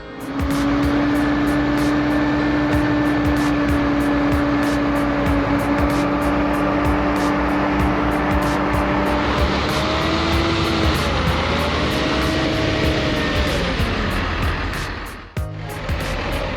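Heavy logging truck and tractor engines roar continuously at a loud, steady drone with shifting pitch as they strain on a muddy, snow-covered road, then briefly drop near the end before resuming.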